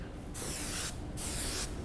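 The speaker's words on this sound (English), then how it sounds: "So I do a little extra spraying" Hairspray is sprayed onto the front of the hair while styling a soft curly bridal bun, two close, hissing bursts back to back with no talk over them.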